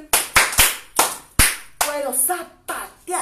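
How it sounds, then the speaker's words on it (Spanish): Children clap their hands in separate sharp bursts, a few quick claps and then short pauses, up close, with a voice speaking briefly in between. "Puedo aplaudir"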